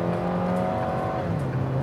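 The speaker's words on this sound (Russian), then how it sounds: "Я нажимаю на газ, ничего не происходит, друзья. Вот он, турбоподхват чувствуется." A restyled 2019 Geely Atlas with a 1.8 turbo engine pulls hard under acceleration, a steady close engine drone whose pitch holds, dips as if shifting gear, then carries on, with no talking.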